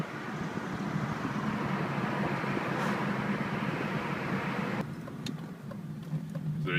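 A 2000 BMW E39 528i with its engine running, giving a steady low drone with some wind-like hiss. It holds at an even level and eases slightly toward the end, with no voices over it.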